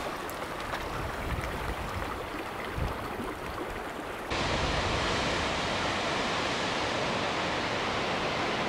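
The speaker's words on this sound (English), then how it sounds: "Double waterfall," A double waterfall on the Pacific Crest Trail pours in a steady broadband rush of falling water, close and constant, growing fuller and louder partway through, with no voices.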